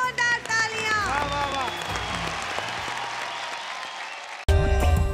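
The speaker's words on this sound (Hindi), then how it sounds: "एक बार दादी जी के लिए जोरदार तालियां" Audience applause following a performance on a televised singing show, broad clapping that swells after sung notes and music, then a loud burst of music near the end.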